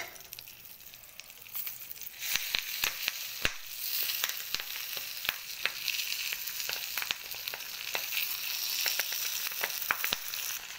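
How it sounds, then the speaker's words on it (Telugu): Fish wrapped in banana leaf, Kerala style, fries in a pan with a steady sizzle, broken by sharp crackling pops and spits of hot oil throughout. "ఇలా కట్టుకున్నది ఇలా ఫ్రై చేసుకోవాలండి."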